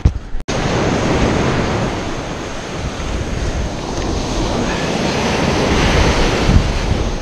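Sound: ocean waves breaking on the shore

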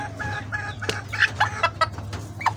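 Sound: golden Sebright chickens clucking

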